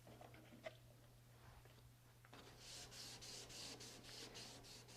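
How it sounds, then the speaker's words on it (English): Wet sanding bare metal by hand with 400 grit wet/dry sandpaper during a table saw restoration, a soft rhythmic rasping scrub that grows busier midway, heard up close and alone. "I sand using a wet dry sandpaper, in this case I'm using 400"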